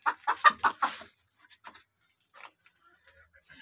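A backyard poultry hen clucks in a quick run of close, loud clucks, then gives a few softer, scattered clucks and murmurs with quiet gaps between.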